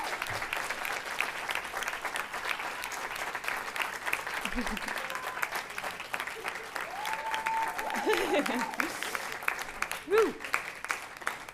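An audience claps steadily through a graduation-style awards ceremony, with a continuous wash of hand claps at moderate distance, a whoop rising from the crowd and some voices underneath.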